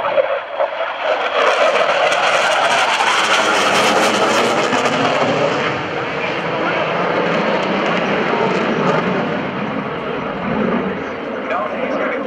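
An F/A-18C Hornet jet roars loud and continuous through a tight pitch-rate maneuver at a 2012 naval air station airshow, the broadband engine noise swelling and easing slightly as it passes.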